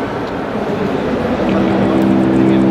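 A McLaren 650S Spider sports car engine at its first public presentation, a loud broad roar that swells midway into a steadier, higher-pitched tone as it revs up close by.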